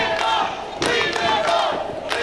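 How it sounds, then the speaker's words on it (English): Wrestling show crowd chanting in loud rhythmic bursts, roughly four shouted beats close together over a short stretch. "Crowd giving him a leave it on chant"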